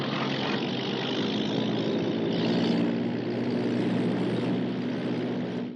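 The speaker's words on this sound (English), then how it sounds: "That's a pickup plane" A propeller pickup plane comes in to land, its engine droning in a loud, steady, low rumble that holds throughout without a break and tapers slightly at the end; no voices.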